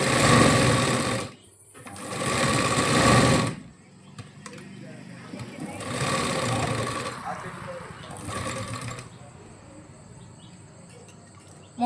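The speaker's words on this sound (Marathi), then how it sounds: "मोटरच्या स्पीडमध्ये घडी मशीनची सुईतून दोरा निघून जातो" A sewing machine motor runs while stitching a lace-trimmed sleeve design, a close, steady whirring that swells and eases across the clip; a voice talks over the opening seconds.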